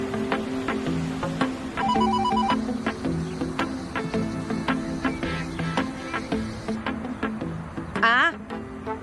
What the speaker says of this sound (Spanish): No habrán oído el teléfono.